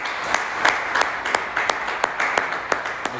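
A church congregation applauds the Lord in steady, moderately loud clapping, with sharp individual claps standing out from a continuous patter of hands and no voices over it.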